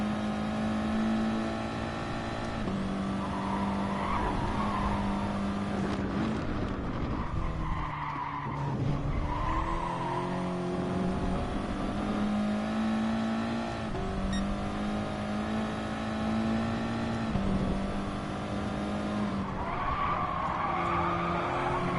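A race car in the GT Sport video game revs hard through its gears for a sustained stretch, its tires squealing and skidding through corners, with loud, continuous engine noise and no voices.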